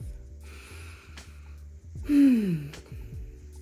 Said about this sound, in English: The very first thing that you should do is take a breath.